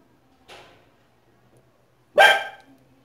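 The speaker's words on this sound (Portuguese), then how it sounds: "a minha cachorra, tá? Que tá latindo." A dog barks twice: a softer bark first, then a louder, close bark a moment and a half later, with quiet in between.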